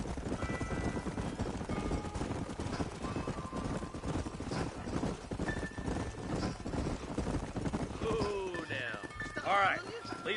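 Horses' hooves clip-clop steadily in the Western video game Red Dead Redemption, a continuous rhythmic trot of several animals heard up close throughout, with game ambience and a brief sharper call near the end.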